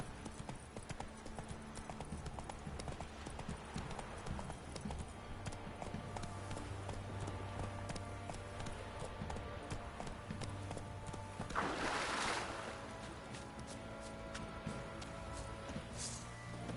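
Roach the horse galloping in The Witcher 3, steady rhythmic hoofbeats close by throughout, with a brief rustling burst partway through.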